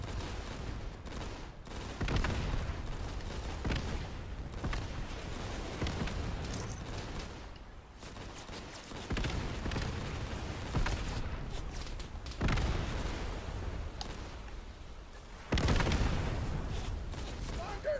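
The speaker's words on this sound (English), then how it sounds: "A machine gun." Heavy gunfire in the World War II shooter game Easy Red 2, with bursts of machine gun fire and booming explosions rolling continuously through a battle, loud and dense with brief lulls.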